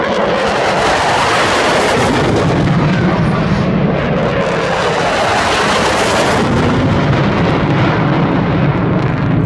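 Loud roaring MiG-29 jet noise at a Bulgarian air show dogfight display, with a continuous rumble and crackling bursts of simulated gunfire, a voice shouting briefly over it.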